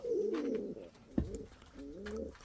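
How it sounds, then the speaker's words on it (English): Indian Fantail pigeons coo nearby in repeated low, rolling phrases, with a short sharp knock midway and other soft bird sounds around them. "So all the birds are active."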